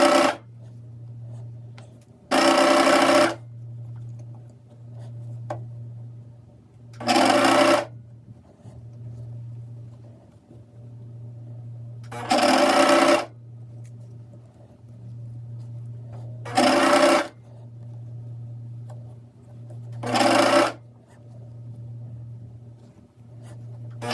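A sewing machine stitches a t-shirt sleeve seam in repeated short bursts, each run separated by quieter pauses with a steady low hum underneath, close and clear with no talking.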